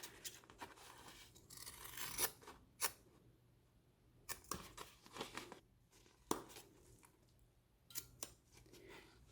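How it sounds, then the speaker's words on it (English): Scissors snip through bag fabric while cutting the opening for a welt zipper pocket: a quiet, close series of short irregular cuts and rustling, alone without talk. "And then I'm going to cut in the center here, and I'm going to stop 1/4 of an inch before I come to the side seam"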